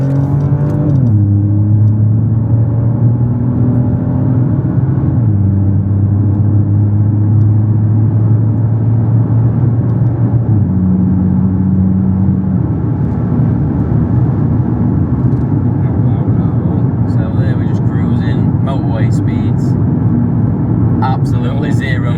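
A BMW 118i with its muffler deleted revs hard, its engine note climbing and dropping in steps through repeated pulls, loud and close, with a steady low rumble underneath.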